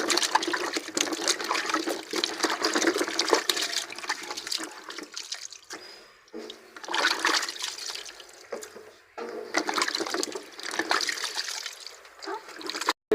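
Running water splashes and sloshes steadily as potatoes are washed for making chips, with a brief pause and a couple of quieter gaps before the rinsing resumes, close and fairly loud.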